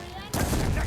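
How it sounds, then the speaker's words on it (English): Dense gunfire during a battle in the video game Horizon Forbidden West: quiet at first, then a sudden loud burst of overlapping shots that carries on steadily to the end, with voices shouting through the fight. "Don't stop shooting!"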